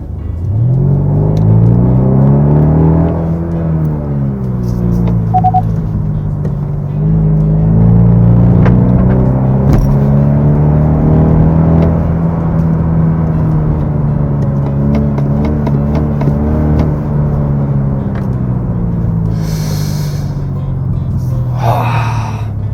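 Kia K5 facelift with a 1.6-litre turbo engine in sport mode, its active sound design piping in a synthetic exhaust note: a loud, sustained engine drone rising and falling with throttle, heard from inside the car for over twenty seconds.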